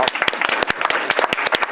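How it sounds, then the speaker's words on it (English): Audience at a school board work session bursts into dense, lively applause, many hands clapping close and continuous with a few voices mixed in. "So I think that deserves a round of applause"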